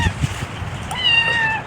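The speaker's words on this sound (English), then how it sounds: "The kitty cat smell this this fish fertilizer, so whenever I make it, they kind of go crazy about it." Cats meowing excitedly near a garden while fish fertilizer is mixed, giving a short run of close, fairly loud meows over background noise.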